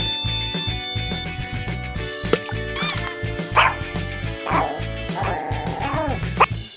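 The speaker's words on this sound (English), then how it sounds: "Dog." Toy animal sounds play in a row, including a dog's bark-like yips and a whimpering yelp, with short electronic tones and loud thumping rhythm underneath; the dog call is fairly close and clear among the other toy noises.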